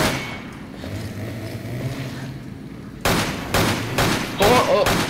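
Gunfire in Resident Evil 5 with a Nightmare mod, aimed at a character's legs: after a quiet stretch, several loud, close shots crack out in a quick irregular burst.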